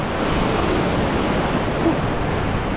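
North Atlantic ocean waves surging against sea cliffs on an incoming tide, a continuous loud roaring wash mixed with wind buffeting the microphone, close and unbroken.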